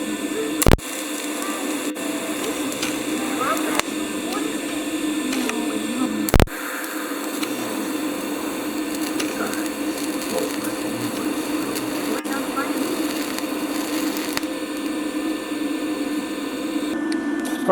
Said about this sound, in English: I had to turn this TIG welder all the way down to like 20-25 amps because this is like thinner than a soda can